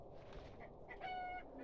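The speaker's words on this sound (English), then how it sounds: "Hello, Mr. Chicken." A short, faint bird call in the video game Arx Fatalis, a single honking cluck from a chicken heard once over low background ambience.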